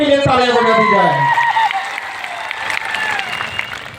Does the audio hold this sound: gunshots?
no